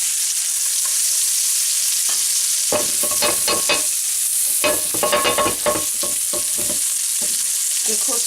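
Grass-fed minced steak sizzles and crackles loudly in a hot pan, with bursts of stirring and scraping breaking through the steady frying hiss.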